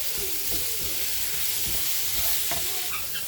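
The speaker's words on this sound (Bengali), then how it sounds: "আর মিক্স করলেই হয়ে গেল অ্যাভোকাডো ভাজি" A spatula stirs avocado bhaji (fried avocado) in a hot frying pan. A constant loud sizzle of oil runs underneath, and repeated scraping strokes against the pan surface come in a loose, irregular rhythm.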